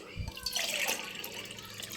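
Water pours into a pot for Tamil-style hotel tomato rice made with seeraga samba rice, a steady splashing stream near the microphone with a brief louder surge, running continuously for about two seconds.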